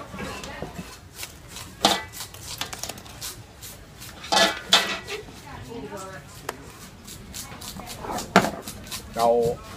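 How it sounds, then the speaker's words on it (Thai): A knife fillets a snakeskin gourami fish on a cutting board, giving scattered sharp chopping taps and scraping knocks at an irregular pace, close by, with someone talking at times between the cuts. "เดี๋ยวผมจะแล่ให้ดูนะครับ"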